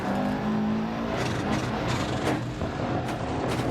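A rally car engine in the video game Dirt Rally 2.0 revs hard after a clutch kick on an Argentina stage. It stays loud and close in a steady, sustained roar with small surges in pitch.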